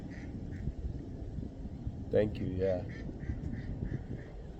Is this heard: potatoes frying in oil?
no